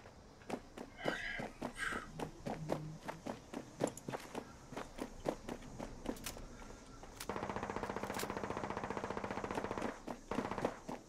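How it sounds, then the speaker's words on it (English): Gunfire in the Fallout 76 video game: a run of loud, evenly spaced single shots, then a dense rapid automatic burst near the end, with steps and movement sounds between. "Is he just randomly firing now?"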